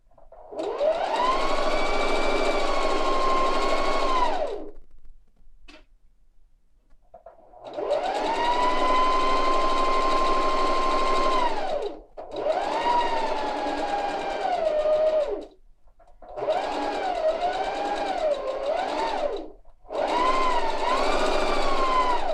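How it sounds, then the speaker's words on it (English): Sewing machine running a back-stitched quarter-inch seam: five steady motor bursts of several seconds each, separated by short pauses, with pitch wavering as the speed changes, close and alone. "back to my sewing machine, and I'm going to be lining it up with the divot on the foot that marks the 1/4 inch"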